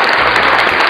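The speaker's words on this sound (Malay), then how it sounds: "jadi seterusnya kita ada clap, tepuk tangan." Canned applause sound effect played from a V8 soundcard, a dense, loud, uniform wash of clapping filling the short stretch without any voices.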